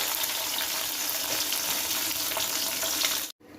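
Hot oil tempering sizzles loudly and steadily for a few seconds as it is added to spinach dal, a dense crackling hiss that cuts off abruptly near the end.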